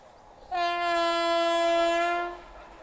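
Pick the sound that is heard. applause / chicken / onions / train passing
train passing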